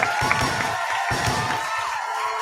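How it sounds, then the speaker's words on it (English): Studio guests on a podcast set clap and cheer together, a steady dense wash of applause and whoops that stays loud and close for the whole stretch without pause. "Can we all clap it up?"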